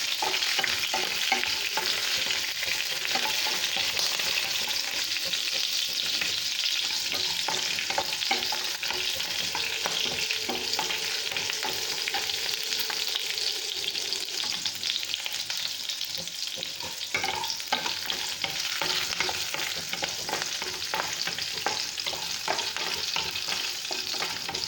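Green chillies frying in hot oil with spluttering mustard seeds, a loud continuous crackling sizzle with frequent stirring scrapes, all steady and close with no talking.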